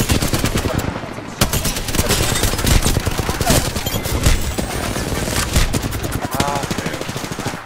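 Rapid automatic gunfire in the battle game Apex Legends, loud sustained bursts of shots with brief gaps, packed tightly throughout with impacts layered in.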